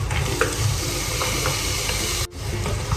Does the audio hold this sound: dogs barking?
no